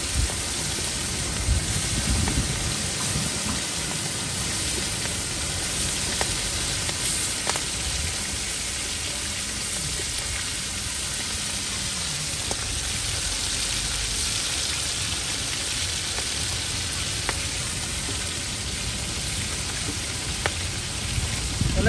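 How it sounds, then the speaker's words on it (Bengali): Prawns frying at a beach food stall in Puri, giving a loud, steady sizzle that runs unbroken for over twenty seconds with faint background murmur. "এখন ভাজা হচ্ছে।"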